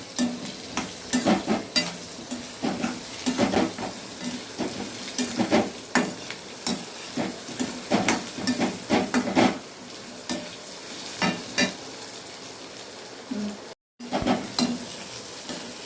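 Chopped beetroot sautéing in a pan for beetroot chutney, stirred with repeated scraping strokes over a steady sizzle, close and fairly loud, with no one talking.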